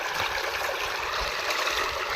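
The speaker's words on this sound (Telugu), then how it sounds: "వాటర్ చూడండి ఎంత పుష్కలంగా వస్తున్నాయో" Water gushes abundantly into a rice paddy field in a hilly village, a steady, close rushing and gurgling flow with no pauses.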